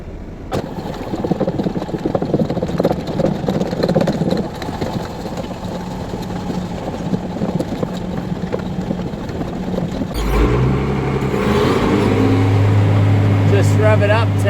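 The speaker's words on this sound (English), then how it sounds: "rev it up to finish emptying the mixer" Tractor engine on a dairy farm running steadily, then revving up louder to drive a feed mixer and empty it, a sustained mechanical drone with a rising, heavier tone after the rev.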